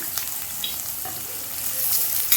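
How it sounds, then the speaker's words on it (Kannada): Finely chopped onions with green chillies fry in a pan, giving a brief, close, steady hiss with light crackles and faint stirring scrapes, no voices. "ಈರುಳ್ಳಿ 1-2 ಈರುಳ್ಳಿ ಸಣ್ಣಗೆ ಹೆಚ್ಚಿಟ್ಕೊಂಡಿದ್ದೀನಿ, ಅದನ್ನು ಹಾಕ್ಕೊಂಡು ಫ್ರೈ ಮಾಡ್ಕೊಳ್ತೀನಿ"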